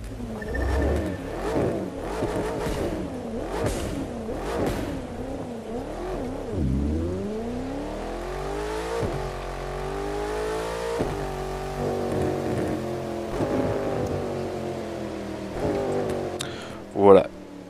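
A car engine in the video game The Crew 2 revs and climbs in pitch with a steady, buzzing drone, rising and falling through gear changes, loud and continuous, ending with a sharp whine.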